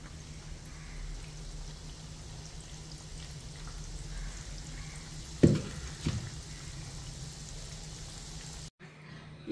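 Seepu seedai dough fries in hot oil for Diwali snacks, a steady soft sizzle and crackle running throughout, broken by a couple of brief clinks near the end.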